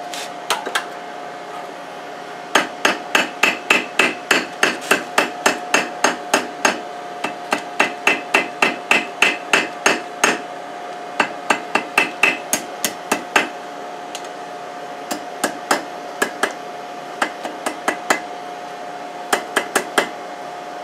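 Blacksmith's hammer flattening a forged coiled candle holder over the hardy hole of an anvil: a long series of sharp, ringing metallic blows in quick bursts with short pauses, close and loud over a steady background hum.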